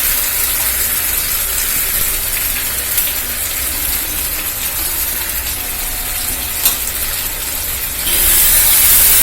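Elephant foot yam pieces coated in masala frying in hot oil, a loud, dense and continuous hiss with no pauses that swells briefly near the end.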